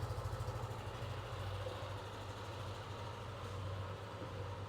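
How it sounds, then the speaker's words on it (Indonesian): Yamaha NMAX Turbo TechMax Ultimate scooter idling, its exhaust giving a steady low throbbing rumble that stays close and even throughout, with no talking. "Nah, ini untuk suara knalpotnya."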